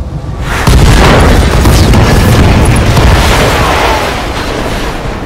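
A mech blows apart as it is destroyed in the BattleTech video game: a sudden heavy boom followed by a loud, sustained rumbling roar that slowly fades over several seconds.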